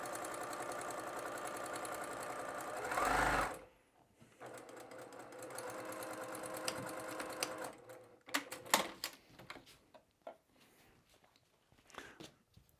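A sewing machine stitches fabric along a curve for a stuffed bear, giving a fast, even mechanical whir that stops abruptly after a brief louder burst, followed by scattered clicks, thumps and fabric handling.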